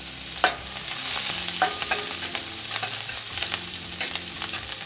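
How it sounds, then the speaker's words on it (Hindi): Mustard seeds and finely chopped green chillies crackle and sizzle in hot oil for a rava upma, a steady frying hiss broken by sharp pops and spoon clatter against the pan, close and alone with no talking. "तो इसमें सबसे पहले हम अपनी एक चम्मच सरसों डालेंगे, अच्छे से तड़कने देंगे इसको"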